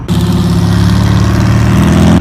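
A motorcycle engine revs loudly and close by, a steady throaty rumble that holds throughout.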